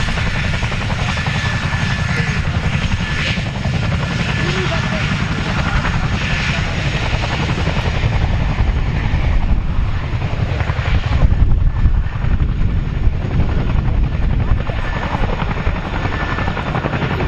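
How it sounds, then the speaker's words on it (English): A twin-rotor RAF Chinook helicopter roars at an airshow, a loud continuous thudding rotor wash and engine drone that stays steady throughout. "a Chinook party piece, one of the only helicopters in the world that can reverse on two wheels"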